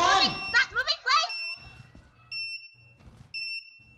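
A bomb in the Lethal Company video game beeps in steady, high, sustained electronic tones, heard twice after a burst of excited voices.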